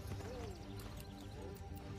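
Horse hooves clip-clopping in Assassin's Creed III, a quiet, quick rhythmic trot of game horse steps with a faint whinny-like tone drifting over the top.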